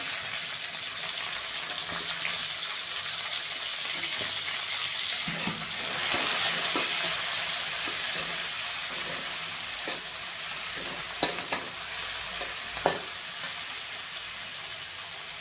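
Garlic and green chilies sizzle in a hot pan for fenugreek stir-fry, a steady broad hiss with a few soft clinks and stirring scrapes toward the end, close and continuous with no speech.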